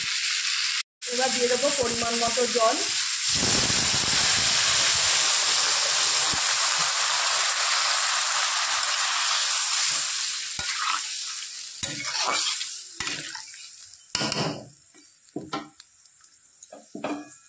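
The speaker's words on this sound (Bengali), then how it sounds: "মশলা ভাজা ভাজা হয়ে গেছে। এবার দিয়ে দেবো পরিমাণ মতো জল।" Water poured onto fried spices in a pan for a tengra fish curry sets off a loud, continuous hissing sizzle that gradually fades and turns into scattered crackles and pops.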